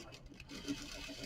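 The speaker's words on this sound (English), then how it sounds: "So I'm going to stitch, back tack, stitch," Domestic sewing machine stitching forward and back tacking over a jeans-style fly front, pushing through several layers, a steady mechanical whir running the whole short stretch with faint talk around it.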